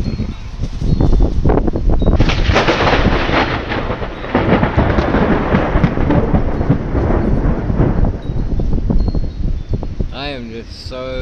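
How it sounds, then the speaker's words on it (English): Heavy rain pours down in a dense, loud wash near woods, with deep rumbling thunder building through the downpour; a faint voice briefly comes through near the end. "Here comes the rain."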